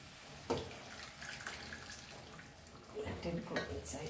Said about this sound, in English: Now we will add our dal. So here it is along with the water.